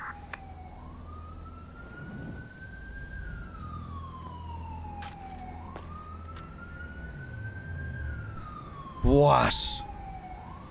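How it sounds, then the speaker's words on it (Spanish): Police sirens wail in a video game during a Fleeca bank robbery. Long rising and falling tones sweep slowly over a low background, a brief voice cuts in, and a sudden burst of noise comes near the end. "Escucho sirenas."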